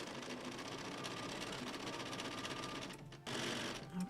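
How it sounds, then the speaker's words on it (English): A sewing machine stitches quilt fabric a quarter inch from the edge of a baby quilt block, its steady rapid whirr running continuously up close, with a brief pause near the end before it resumes. "I'm going to sew about 1/4 inch from the edge down here, just to hold these down"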